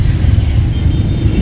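Street traffic at a junction in Angeles City, a close, loud low rumble of passing vehicles, steady and without talk.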